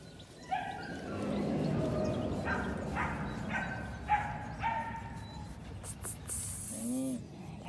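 A dog gives a few short barks and yips, then thin whimpering whines near the end, heard close over a low background.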